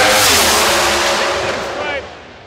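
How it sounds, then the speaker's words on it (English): Pro Stock drag racing cars at the NGK NTK Four Wide Nationals roar loudly at launch, a dense engine blast that fades as they pull away down the strip. "Mason McGaha won the race."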